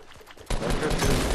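Gunfire in Fortnite Battle Royale, a sudden loud burst that starts partway through and keeps going as dense, sustained shooting.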